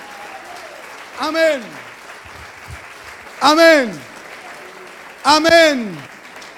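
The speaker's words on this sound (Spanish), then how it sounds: "Vamos, levante ese aplauso que se rompen cadenas." A church congregation at an autumn retreat claps in a continuous, crowded wash of applause while a voice calls out loudly three times over it.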